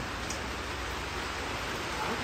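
Rain falls in a soft, even hiss that stays steady from start to finish, fairly quiet and unbroken.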